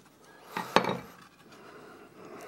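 A carving knife slices an unclamped wooden blank across and along the grain. One short, crisp scraping cut rises and fades within about half a second, close by, against a quiet room background.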